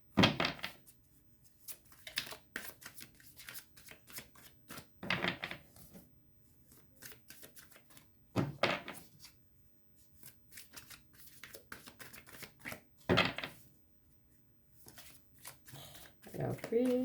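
Tarot cards are shuffled for a reading in repeated riffling bursts of papery flicks and taps over a steady rhythm, with a voice talking softly throughout.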